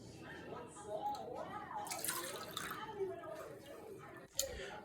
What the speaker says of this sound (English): we are going to pour our 100 milliliters of water into the clean, empty soda can